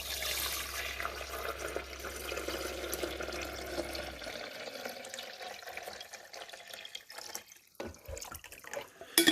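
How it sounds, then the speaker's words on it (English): Clean water is poured into the reservoir of a Mr. Coffee Rapid Brew 12-cup drip coffee maker, with a soft, steady splashing trickle that thins out and ends in a few drips and small handling clicks. "So now we're just going to put clean water right back here."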